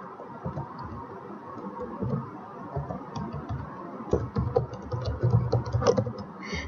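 Fingers typing numbers on a computer keyboard, a run of quick, irregular soft key clicks that grows denser and louder toward the end, with no talking.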